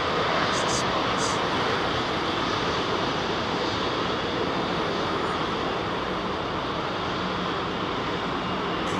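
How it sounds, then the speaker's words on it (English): A Cathay Pacific Boeing 777 roars steadily during its takeoff at London Heathrow, a broad, sustained engine rumble that stays loud and even throughout, with no voices over it. "Cathay Pacific's 777 making its way up for departure"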